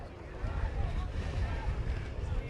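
Strong wind gusts across a flat open outdoor space at an evening march in El Paso, Texas, a low rumbling buffet against the microphone that swells and holds steady.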